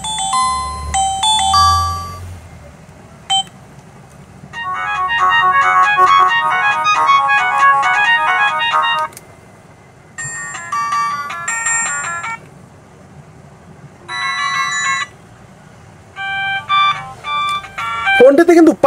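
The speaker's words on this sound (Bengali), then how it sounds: "আর ফোনটির যে রিংটোন, এটা একটু শুনবো, যতই বক্স স্পিকার হোক ফোনটির সাউন্ড কতটা ক্লিয়ার ছিল দেখবো।" A Symphony button phone plays its ringtone through a small box speaker: bright, repeating electronic melody phrases in several bursts, separated by short pauses, heard close and clear.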